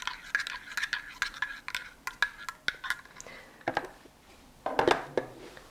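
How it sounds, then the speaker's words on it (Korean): Spoon stirring caramel sauce and an espresso double shot together in a cup, a rapid series of close, bright clinks and scrapes against the cup, steady and then a cluster near the end, with no talk. "소스하고 커피가 잘 섞일 수 있도록 저어줍니다"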